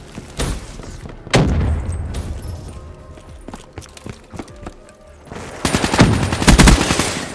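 Semi-automatic submachine gun fire in the Black Ops 3 beta: loud, close bursts of rapid shots, with a short volley at the start, another after a pause, then a longer sustained stretch near the end.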